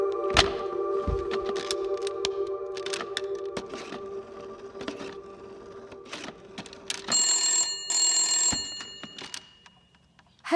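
A telephone rings repeatedly in bursts with clicking thunks between, close and fairly loud, then a brighter electronic ring near the end.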